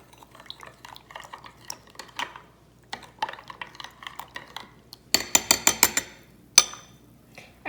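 Sugar and yeast stirred together in a bowl, with light clinks and scrapes of a spoon against the dish, sparse at first and then a brisker burst of sharp taps near the end.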